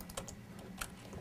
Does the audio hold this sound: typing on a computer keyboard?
yes